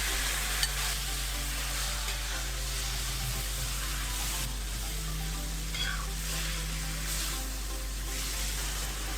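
Pad Thai noodles with sauce stir-fry in a pan, a steady moderate sizzle and hiss with occasional stirring scrapes, fairly quiet over a constant low hum, with no talk.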